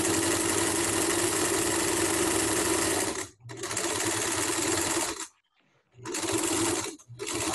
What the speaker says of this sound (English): I'm just sewing along the bottom, and when I get to the open seam,